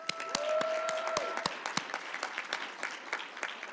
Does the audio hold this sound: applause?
yes